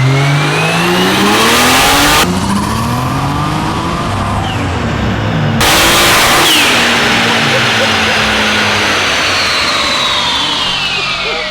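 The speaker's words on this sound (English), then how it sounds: "the wastegate opening sounds ridiculous" A Nissan R34 Skyline screams on a dyno, its engine revving loud and sustained with rising and falling sweeps and a sharp burst partway through, while voices talk beneath the roar.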